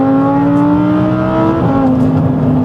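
A twin-turbo hybrid Audi R8 pulls away hard from a standstill, its engine note climbing steadily, then dropping briefly at a gear change before rising again. It sounds loud and close, with no voices.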